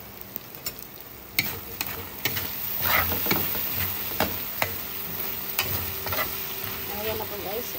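Meat browns in a covered pot for ginataang puso ng saging, a steady sizzle broken by frequent sharp clicks and clatters of utensils, close, with faint voice-like sounds in the background.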